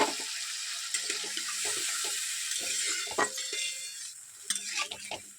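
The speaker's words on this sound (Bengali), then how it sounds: "দেখুন জল দিলাম, বেশি দেবো না।" A small splash of water goes into a pan of spices already fried down in oil, and the spices sizzle and bubble up in response. Stirring scrapes and clatters can be heard around the pour.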